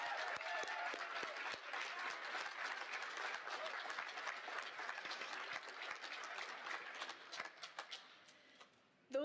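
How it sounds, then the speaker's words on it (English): An audience claps for graduates at a high school equivalency graduation ceremony, dense sustained applause that thins out and fades toward the end. "Let's give them another round of applause."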